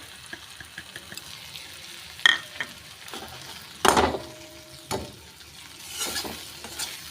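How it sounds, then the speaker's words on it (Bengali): Kashmiri chili powder is stirred into soft cooked tomato in a pan for dhaba-style tadka dal, giving a low simmering sizzle broken by a few sharp scrapes and clinks of the spoon, with no voices. "এটাও ভালো করে মিশিয়ে নিচ্ছি"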